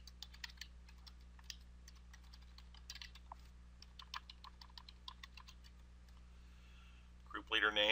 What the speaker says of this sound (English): Here we can type in Jan Brady.